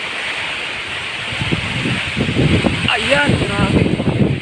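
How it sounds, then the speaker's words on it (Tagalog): Strong typhoon wind and heavy rain lash a farm with bamboo stands as Typhoon Tino hits, a steady roaring wash throughout with gusts swelling, while a person talks over it. "meron na pong malakas na ulan at malakas na hangin."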